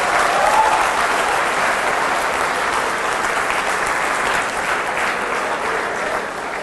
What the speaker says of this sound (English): clap for yourself.